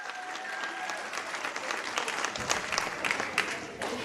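Audience clapping for scholar-athlete award winners at the Lindenwold High School sports awards in 2023, lively and uneven, with scattered cheers and crowd voices mixed into the applause.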